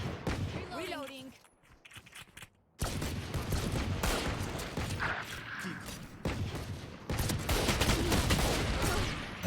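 Rapid bursts of video game gunfire crackle through a shooter match, a fusillade from several players with a brief lull before loud, dense shots resume and continue to the end.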